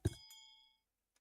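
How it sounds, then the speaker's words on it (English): A single bell strikes once in a parliament chamber, a bright metallic ding that rings and fades within about a second. "Oh, stop the bells."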